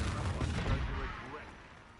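Confringo explosive spells cast in the Hogwarts Legacy video game, loud booming bursts clustered in the first second, then a rumbling tail that gradually fades.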